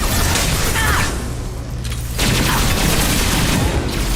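Dense, loud combat explosions in Mass Effect 2: continuous booming blasts and crackling gunfire with a brief dip before another heavy burst, a close, chaotic barrage throughout.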